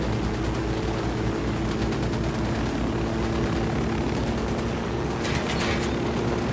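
Helicopter in the video game Ghost Recon Wildlands, a steady loud rotor and engine drone filling the whole stretch without pause, with no voices over it.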